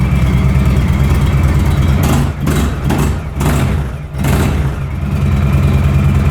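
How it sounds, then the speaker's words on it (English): Close, loud engine sound from a 2016 Indian Chieftain Dark Horse motorcycle on its stock exhaust, revved in a garage: a steady idle broken by about three short throttle blips that swell and fall back. "Revving it doesn't really give it much sound."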